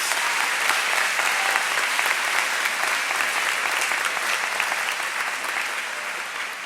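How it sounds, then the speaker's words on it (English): Sustained, dense applause from a high school audience at an honors ceremony for students in subjects like physics and earth science, loud and steady before easing slightly toward the end. "Let's give them a well-deserved round of applause"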